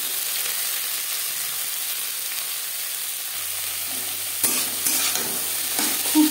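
Bitter gourd frying in refined oil in a wok, a steady hiss of sizzling that swells with sharper crackles and stirring scrapes in the last couple of seconds, close and clear.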